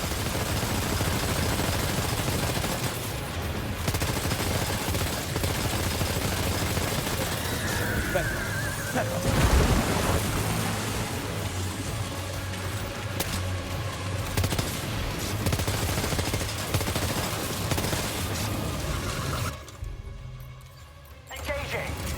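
Sustained gunfire in Death Stranding 2, dense rapid shots and bursts layered over a constant rumbling battle bed, loud throughout, with a voice talking partway through and a brief drop near the end.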